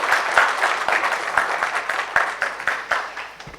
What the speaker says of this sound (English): Let's have a big round of applause for our experts.